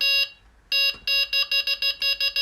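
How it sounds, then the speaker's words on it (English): A high electronic beep sounds, pauses, then repeats in a fast run of about eight short, evenly spaced beeps, loud and close. "I can get more beeps when I'm really got it turned down."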